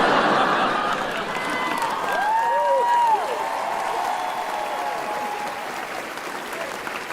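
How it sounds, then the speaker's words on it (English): Audience applause fills a comedy show, a dense wash of clapping from a crowd with scattered laughter, loud at the start and tapering slightly while holding steady to the end. "Thank you for clapping."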